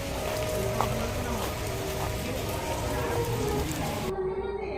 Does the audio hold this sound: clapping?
no